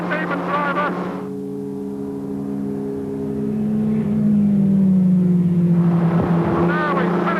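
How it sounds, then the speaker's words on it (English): A Van Diemen Formula Ford single-seater racing car lapping Snetterton circuit, its engine droning loud and close as an onboard note that holds steady, then rises in pitch, with a voice speaking over it at the start and end. "And now we finish another lap at Snetterton in a very sophisticated single-seater."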